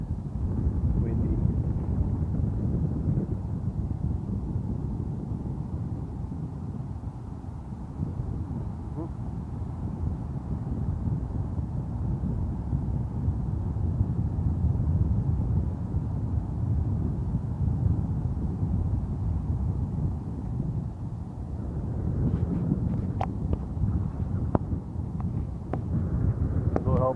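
Steady, low rumbling wind on an overcast, foggy spring day by San Francisco Bay buffets the microphone throughout, a continuous roar with faint voices underneath.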